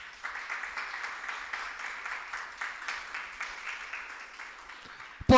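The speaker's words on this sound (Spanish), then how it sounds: "Un aplauso a Cristo por eso." A church congregation applauds Christ, a steady patter of many hands clapping at moderate distance for about five seconds, ending abruptly with a brief louder sound.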